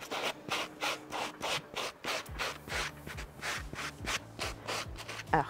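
A brush scrubs over a dirty polishing pad while a tradesman's utility van is being detailed. The strokes are quick, rough and repeated in a steady back-and-forth rhythm, close by and fairly quiet, with no talking.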